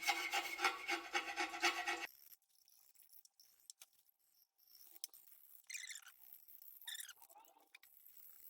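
Knife blade scraping old gasket residue off an aluminum transmission pan from a BMW E38 750i V12, starting with a steady rasping rub and then trailing into quieter, scattered scrapes, close up and without speech.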